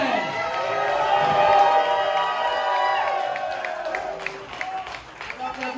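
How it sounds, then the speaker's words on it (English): A live crowd at a comedy debut during a pro skateboarding event cheers, whoops and claps, a loud swelling roar that gradually thins out, with voices mixed into the noise. "Big round of applause, guys, for the comedy debut of Tyrone Olson"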